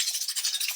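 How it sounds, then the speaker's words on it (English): Chicken wings turned over in a crowded pan crackle with a bright, busy sizzle and light scraping, close and steady for a brief moment, with no voices. "I am checking the wings. I'm just gonna flip them over."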